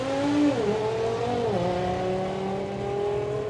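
An Audi RS3 drag car at a drag strip accelerates hard, its engine note rising and shifting as it pulls away, steady and moderately loud over crowd and track ambience.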